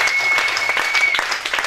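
A church congregation at a mothers' convention claps in sustained, dense applause, a close steady patter of many hands without pause.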